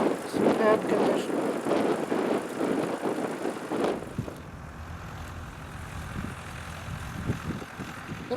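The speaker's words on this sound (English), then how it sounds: "Little grey Fergie approaching now." A little grey Ferguson tractor from about 1976, kept in superb condition, approaches at a farming working day event, its engine chugging low and rough beneath nearby talking and general outdoor noise.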